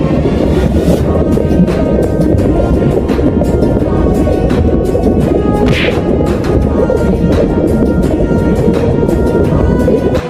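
Rain falls steadily around water, a continuous, loud, dense roar of drops with gusty, wind-like rumble underneath and no pause throughout.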